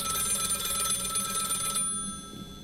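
A telephone bell rings in the video game Find Yourself, a fast trilling ring that carries for a little under two seconds and then cuts off. A quiet room tone follows.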